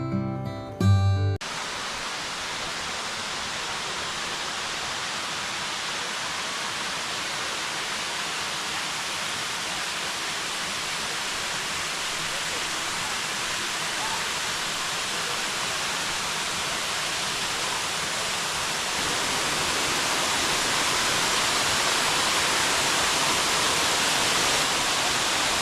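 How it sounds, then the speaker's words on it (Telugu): Yarravaram waterfall rushes with a loud, continuous, broad roar of falling water that grows slightly stronger toward the end, after a brief burst of other sound at the very start. "మేమైతే ఇప్పుడు వాటర్ ఫాల్స్ కింద వైపు అయితే వెళ్తున్నాం"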